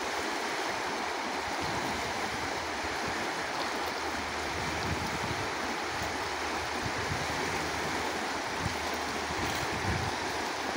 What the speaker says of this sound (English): There's some fairly good rapids there.